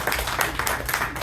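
An audience applauds at a Toastmasters-style speaking event; steady, dense clapping from a nearby crowd fills the short stretch, with no voices over it.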